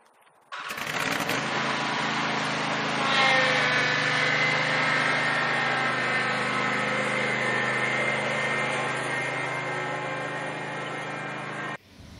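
A lawn aerator pushed around the perimeter of a front yard makes a steady, loud droning hum that starts abruptly, holds for about eleven seconds and cuts off sharply.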